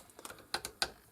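A universal Torx wrench spanner latches and jumps on a short bit of bolt, giving a quick run of sharp metallic clicks and ratcheting snaps, close and fairly quiet, with no talking.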